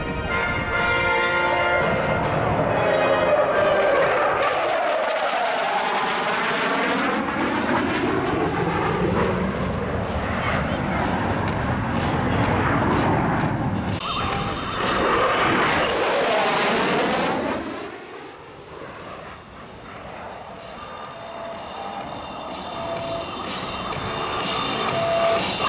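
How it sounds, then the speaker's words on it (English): An F-111 jet makes a high-speed pass at the Avalon air show, its thunderous roar sweeping down in pitch as it approaches and passes, dipping briefly before a second harsh surge and rumbling fade. "a high-speed run by the F-111"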